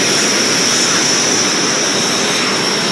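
Engine of a Snowbirds aircraft running with a steady, loud, dense roar and a constant high whine, unbroken and close, with no talk over it.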